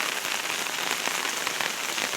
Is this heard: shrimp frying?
no